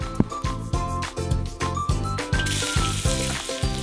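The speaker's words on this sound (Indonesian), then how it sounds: "Pertama-tama, tumis bawang merah, bawang putih, dan cabai." Shallots, garlic and chili sauté in a pan with a steady crackling sizzle. Rhythmic, pulsing tonal sounds run through the whole stretch alongside the frying.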